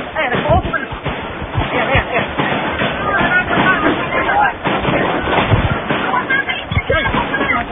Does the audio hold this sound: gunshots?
yes